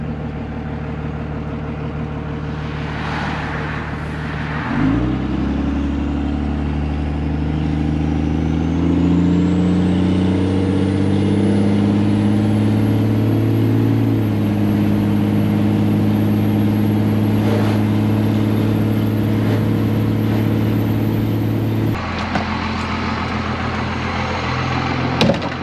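An old second-generation Cummins diesel pickup truck drives along with a loud, steady low engine drone and rumble, the pitch shifting gently as it pulls and settles, heard alone without talk.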